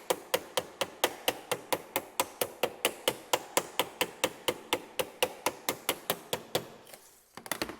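A hammer strikes sheet metal over a wood die about twenty times in a fast, even rhythm, smashing down tucks for a firewall. The sharp, close blows stop briefly and then resume.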